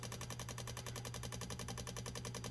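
A KTM 950 motorcycle fuel pump running, a quiet, steady rapid clicking pulse with a constant low hum underneath, heard on its own.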